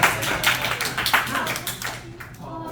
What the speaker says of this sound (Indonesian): Kita tepuk tangan untuk kelompoknya Monik ya.